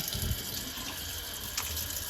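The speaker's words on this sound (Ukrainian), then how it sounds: "А, і ще я дуже задоволена оцим краном." A kitchen faucet runs water into a sink in a steady, even stream that stays close and fairly quiet, with no voices.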